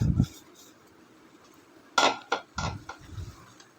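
A spoon stirs roasted coconut and semolina into milk in a pan, making a few sharp metallic clinks and scrapes in short bursts, with a brief voice at the start.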